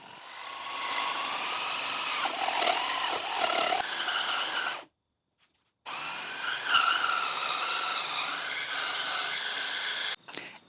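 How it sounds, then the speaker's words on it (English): A jigsaw fitted with a scroll blade cuts wood, a loud continuous buzzing whine that wavers as the cut follows curves, stopping briefly for about a second before resuming, no speech. "This is just using the jigsaw with a scroll blade."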